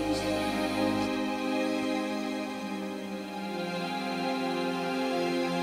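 String sounds from a studio music production: layered, sustained string notes holding steady chords, full and even throughout, with no voices.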